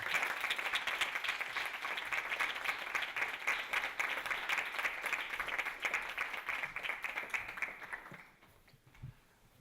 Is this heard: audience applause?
yes